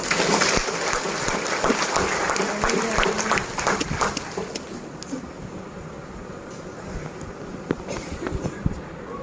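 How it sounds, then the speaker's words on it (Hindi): Church congregation at a Father's Day service clapping together, a loud burst of applause at the start that gradually thins and fades into scattered claps and room murmur. "In honour of all the fathers, आपका पिताजी के लिए भी चलिए हम लोग जोरदार से एक बार ताली बजाते हैं।"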